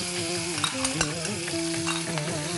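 Ginger garlic paste frying in hot oil with fennel seeds for a Chettinad brinjal kara kuzhambu, a steady close sizzle broken by scraping stirs and a few sharp clacks of a spoon on the pan.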